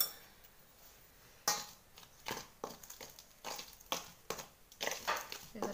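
Jowar flour and besan flour being mixed in a bowl by hand, giving a series of soft scraping, crunching strokes with occasional clinks of utensils, fairly close and irregular, with no talk.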